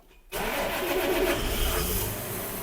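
A John Deere 6210R tractor's diesel engine cranks and catches after a short silence, then settles into a steady, loud running idle close by, with no talking over it.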